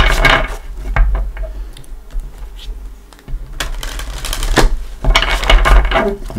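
Psychic Tarot card deck being shuffled by hand, giving bursts of papery riffling and soft card slaps in two main flurries, close and fairly loud with no talking.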